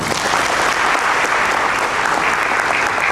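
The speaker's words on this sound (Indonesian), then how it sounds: "Kita beri tepuk tangan." Steady, loud applause from a congregation fills the whole stretch at a wedding anniversary thanksgiving Mass in a church, with no break in the clapping.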